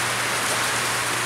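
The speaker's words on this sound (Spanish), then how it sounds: "Está lloviendo agua." Steady rain pours down in a dense, even hiss of countless drops striking a surface, close and continuous with no pauses and no voices.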